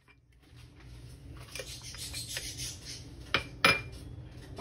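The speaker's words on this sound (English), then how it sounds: "Mix that together." Seasoning being stirred into turkey with lime juice: soft scraping and metallic clinks of a utensil against a bowl, growing louder with two sharp knocks near the end.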